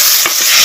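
Onion, tomato and rock salt stir-frying in oil, a loud steady sizzle with a brief scrape of stirring, close up and without talk.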